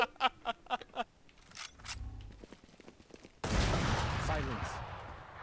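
Turret fire in Valorant comes as a quick string of about five sharp, evenly spaced bursts, followed by scattered quieter clicks and impacts, then a loud sustained wash of game noise.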